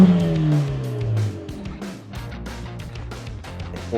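A Mercedes C118 CLA45S with a custom one-off exhaust revs loudly up close, its engine note climbing then dropping into a rough burbling idle with crackles, at a crowded car meet.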